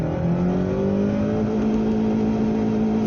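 A Mazda 626 with an upgraded gearbox accelerates hard in first gear during a top-speed run, its engine note rising steadily in pitch as a continuous close drone with no talk.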